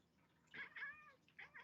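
A person imitates a cat, giving a couple of faint, whiny meows followed by a shorter mew, heard alone over a quiet room.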